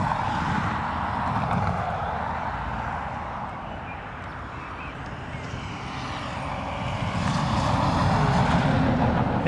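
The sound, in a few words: Ryanair airliner arriving at Dublin Airport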